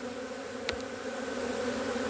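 A swarm of thousands of bees hums in a steady, layered drone close around the listener, with one sharp click partway through.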